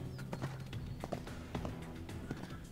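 Horse hooves clip-clop in the Paladins video game as a raccoon character rides, a quick, steady run of light hoofbeats at moderate loudness with game ambience behind them.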